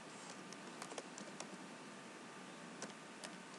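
Typing on a computer keyboard: scattered soft clicking keystrokes in irregular bursts, quiet and close against a steady background hiss, no voices.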